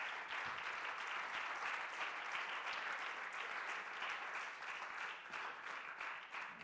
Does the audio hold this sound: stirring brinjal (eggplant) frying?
no